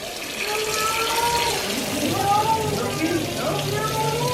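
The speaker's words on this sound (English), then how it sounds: "I'm gonna run it under some more hot water." Hot water streams continuously from a kitchen tap as a container of frozen breast milk is held under it to thaw. The splashing is close and steady throughout, with no voices.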